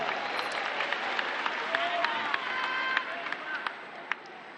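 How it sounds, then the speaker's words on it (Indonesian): A crowd applauds with dense, sustained clapping and a few sharper claps standing out near the end, at a political party gathering in Indonesia. "Boleh tepuk tangan buat semua yang hadir di sini."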